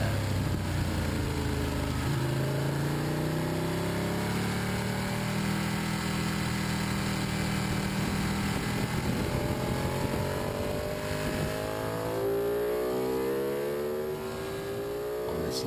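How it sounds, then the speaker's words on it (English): A Ducati Panigale motorcycle accelerating hard on a race track, its engine note climbing through repeated rising sweeps as it pulls away, loud and sustained with no talk. "This is just to show you how quickly Panigale can accelerate if you want to."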